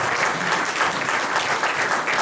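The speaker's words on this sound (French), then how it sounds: "merci Muriel, on peut l'applaudir" Steady audience applause fills a hall after a speaker at a French talk event, dense and even clapping from many hands throughout, with no voices over it.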